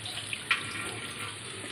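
Water poured off soaked rice, a steady close hiss of flowing water with a couple of faint clinks, no talk.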